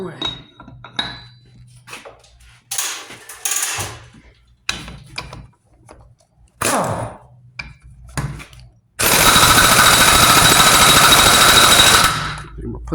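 Impact gun hammering on a Mack truck power divider in a shop, a loud continuous rattling burst lasting about three seconds after scattered clanks and handling of parts.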